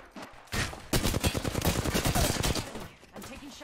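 Rapid gunfire rattles through a shooter video game, a loud sustained burst of closely spaced shots that dies away near the end.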